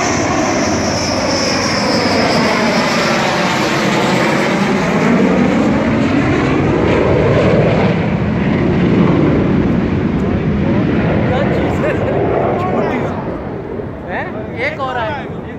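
Rafale fighter jets fly overhead in a steady, loud jet roar that swells and passes over about fifteen seconds, with excited talk over it and the noise fading near the end.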